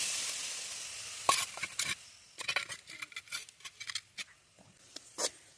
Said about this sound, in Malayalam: ഇടുക പൊരിക്കാനുള്ളത് അതിലേക്ക് ഇട്ട് കൊടുക്കാം.